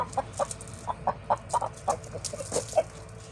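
A rooster, being held, clucks in a string of short, choppy bursts, fairly close and steady, with no talking.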